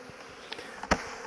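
A small cluster of honeybees shaken loose near a nucleus hive box outdoors gives off a faint, thin buzz, with a brief soft thump partway through.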